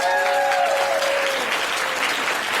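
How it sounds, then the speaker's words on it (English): A crowd at a community forum applauds for district families, steady dense clapping that fills the whole stretch, with a brief tonal sound fading early on. "Let's get a round of applause for our district families at large."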